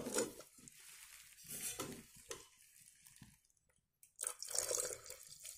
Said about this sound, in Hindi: ये हमने पानी डाल दिया है इसके अंदर थोड़ा सा, और इसे बिल्कुल अच्छे से मिक्स कर देंगे चम्मच से।